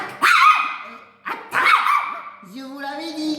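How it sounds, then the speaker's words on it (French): A trained attack dog barks on command, two sharp, loud close barks about a second apart, followed by a higher whining yelp. "Je vous l'avais dit, c'est un chien d'assaut."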